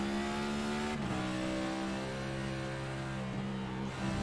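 Race car engine in a racing video game at Watkins Glen International, revving loudly and steadily with a sharp drop in pitch as the driver brakes and quickly downshifts through a sequential shifter, then holds a lower, continuous drone.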